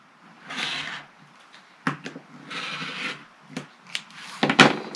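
A fabric half-square-triangle quilt block is trimmed along a ruler, with several short rasping cutting strokes and a few sharp knocks, close and alone.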